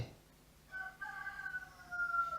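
A chicken in the video game Minecraft gives a short, faint clucking call over quiet background noise, with no speech.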